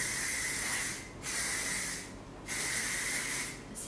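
L'Oreal Paris Elnett Satin hairspray sprayed in three long, close, steady hissing bursts separated by brief pauses, with no talking.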